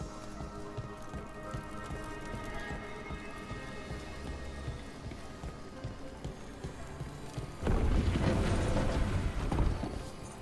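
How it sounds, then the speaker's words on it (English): Steady rainfall in a video game patters throughout, with a louder, denser burst of rain noise near the end, alongside soft ambient tones. "Raining again."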